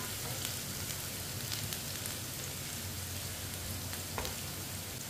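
Onions frying over medium heat in a pan while a spoon stirs them, giving a steady, close crackling sizzle with soft scrapes throughout and no talking.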